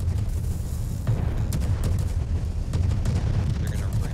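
Cannon fire in a Star Trek Borg video game battle: a dense, continuous rumble of booming shots and low blasts, steady and loud throughout, with a few sharper cracks.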